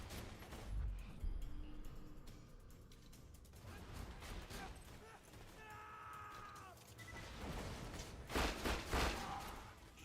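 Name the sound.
enemy blowing up in Borderlands 2 video game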